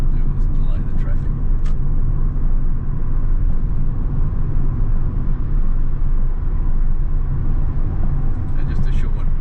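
Steady, loud road and engine rumble from inside a car driving along a freeway near Seaford, continuous throughout with no breaks.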